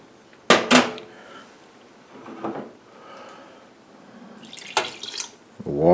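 Water poured into a saucepan of sugar and salt for making nut brittle: a few short splashing pours and drips with clinks, fairly close and separated by quiet gaps, with no talking.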